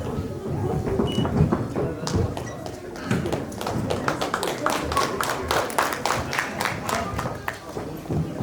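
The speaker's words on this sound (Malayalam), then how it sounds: "അപ്പം നമുക്ക് എല്ലാവർക്കും നല്ലൊരു കൈയടി ഇവർക്ക് വേണ്ടി നൽകാം" An audience at a lamp-lighting ceremony applauds, with many hands clapping in a dense, steady patter that builds after a quieter start and carries on to the end.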